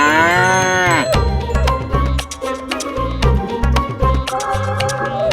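A bull lets out a loud, long, close moo with a rising pitch, followed by clattering and thumping sounds of movement.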